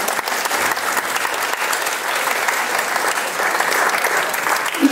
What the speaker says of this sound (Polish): Wielkie brawo